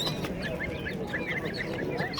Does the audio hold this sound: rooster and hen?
yes